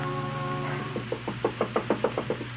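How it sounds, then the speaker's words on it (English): Nervous knocking at a door as a radio drama sound effect, about ten quick, light raps in an uneven run after a steady hum. "Alaric, the family martyr, knocks nervously at Peg's door."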